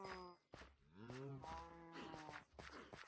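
Minecraft cows moo in a few drawn-out, close bellowing calls that overlap and follow one another over about three seconds.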